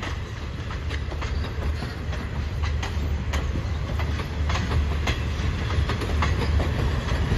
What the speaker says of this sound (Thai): เป็นชุดของรถเร็ว136นะฮะที่มาจากอุบลนะครับลาออกจากชานชาลาที่11นะฮะ